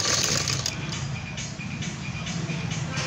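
A sewing machine stitches a blouse neckline in a steady, continuous mechanical whir with a faint rhythmic ticking, close and moderately loud, with no voices.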